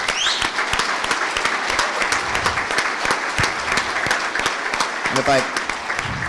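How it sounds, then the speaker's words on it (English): An audience claps steadily for a community party organizer at a county sheriff forum, dense applause sustained throughout with a few brief voices rising above it. "So give her a round of applause, please."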